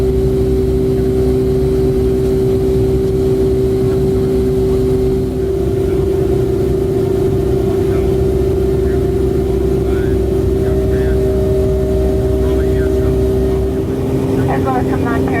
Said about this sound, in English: I must admit that this was one of my favorite takeoffs, particularly due to the sound.